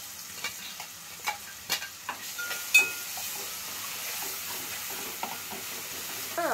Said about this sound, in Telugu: ఈ మసాలా అంతా కూడా వేసేసి కొంచెం బాగా ఫ్రైగా అనిపించాలా